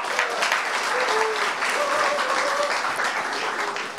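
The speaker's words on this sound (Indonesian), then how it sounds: "Tepuk tangan buat kamu." Audience applause at an Indonesian stand-up comedy show, a steady wash of clapping from a full room with a few faint shouts, lasting throughout at moderate loudness.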